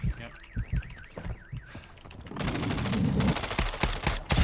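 Gunfire in Warzone 2.0 starts with a warbling electronic tone and scattered pops, then breaks into a dense, sustained automatic burst that runs loud to the end.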